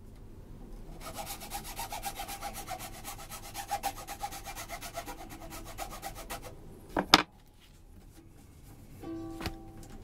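A file rasping in the nut slots of a cheap 1,600-yen ukulele, a close rapid scratchy stroke sequence lasting several seconds, followed by a sharp knock and a brief plucked string tone.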